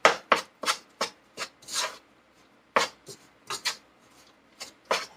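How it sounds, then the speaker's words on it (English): Eggs and flour batter for carrot fritters being mixed by hand in a bowl, heard as irregular scraping, sloshing strokes, some quick and some drawn out, close and fairly quiet. "you can see the eggs and the flour mixture. I'm just going to mix it up."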